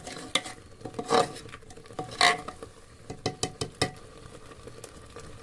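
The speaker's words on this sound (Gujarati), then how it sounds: "હાલો જો દાળ વઘારવાનું શરૂ કરી દીધું દાળ બફાઈ ગઈ છે અને આમાં પણ બધો વઘાર પણ કરી નાખ્યો છે" Tempered dal is stirred in a cooking pot, with a spoon scraping and clinking against the metal in irregular strokes over a soft, low sizzle, close by.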